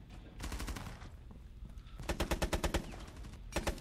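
Rapid bursts of video game gunfire, with one dense automatic volley early, a sharper, louder string of evenly spaced shots in the middle and a short final burst, all close and prominent.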